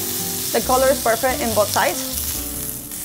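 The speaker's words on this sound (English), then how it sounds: "you know the frying pan is ready for perfect searing" Steady frying sizzle of shrimp searing in a pan, with a person speaking briefly over the hissing crackle throughout.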